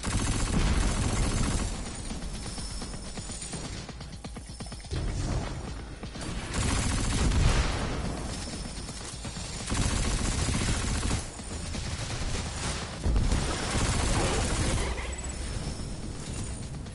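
Missiles firing in a shooter video game, heard as loud bursts of mechanical launch and blast noise in repeated waves with brief lulls between them, dense and close throughout.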